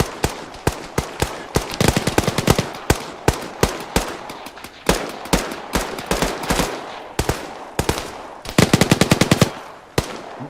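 Heavy machine gun fire in the combat game ARMA 3: rapid bursts and long strings of loud, sharp automatic shots, with brief pauses between volleys and a tight fast burst near the end.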